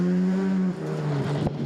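A little Toyota Starlet rear-wheel-drive rally car driven hard on a Coromandel, New Zealand rally stage. The engine drones on a high, steady note, then drops in pitch as the revs fall, with a short rough burst near the end.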